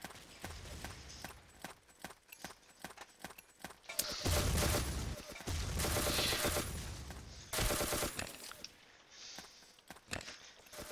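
Gunfire in the blocky shooter Ace of Spades: a string of sharp single shots gives way to long roaring bursts of automatic fire, then more spaced cracks, loud and close with no talk.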